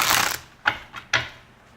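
Tarot cards being shuffled during a reading: a dense papery riffle, then three short separate flicks and slaps, close and moderately loud with no talk.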